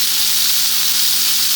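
Egyptian kofta sizzles steadily in a hot frying pan, a continuous close crackling hiss with no voices.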